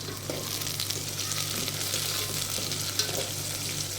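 Onions, green chillies and curry leaves fry in hot oil for a chicken curry, giving a steady, close hiss and sizzle with faint stirring scrapes throughout.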